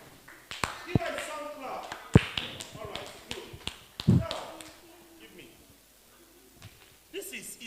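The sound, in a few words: group clapping for a child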